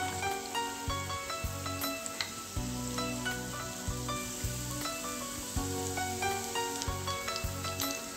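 Potato rava fingers shallow frying in a pan, with a constant soft sizzle of oil close by and frequent small pops and crackles, beneath a steady humming tone in the background.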